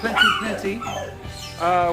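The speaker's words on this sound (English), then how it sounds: "We've got barking like it's going out of style." Dogs bark and whine in the background while a person talks over them in the foreground.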